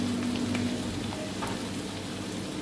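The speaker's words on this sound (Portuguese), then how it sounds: "a gente tem que saltear mais um pedacinho, para a cebola ficar bem descolada" Onion pieces sautéing in a pan for vegetarian noodles, giving a steady, close sizzle and crackle of frying with faint stirring, no voices over it.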